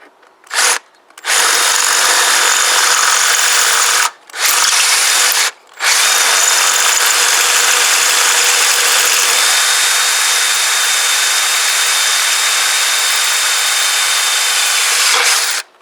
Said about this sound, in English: Surprising how well it works when you've got decent bloody drill bits